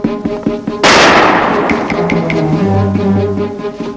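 Single loud, sharp gunshot close by, ringing off amid background music and tones in a 1984 film scene.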